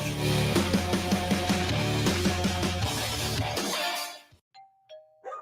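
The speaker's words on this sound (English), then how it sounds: "It's another roof gypsy ringing the doorbell." A doorbell chimes in a repeated ding-dong pattern, fairly loud and close, then cuts off into near silence with a couple of soft tones.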